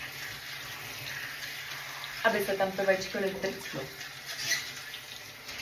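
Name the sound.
running tap water for washing hair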